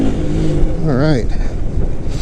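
A dirt bike engine runs hard during a ride on a test tune, a loud continuous roar with one quick rising-and-falling rev in the middle.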